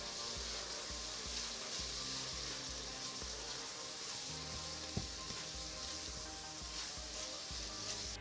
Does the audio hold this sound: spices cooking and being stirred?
yes